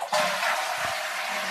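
A toilet flushing at close range, a sudden rush of water that surges in and keeps washing steadily for over a second, with no talk.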